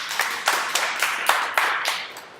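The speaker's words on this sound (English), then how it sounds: "let's give them a warm round of applause" An audience applauds after a debate with a sparse round of fairly regular claps, moderately loud and close, without any voices.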